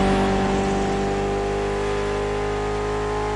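A Mitsubishi inline four-cylinder rated at 280 horsepower holds a steady, loud rev in The Crew, a dense harmonic engine tone sustained evenly throughout with no voices.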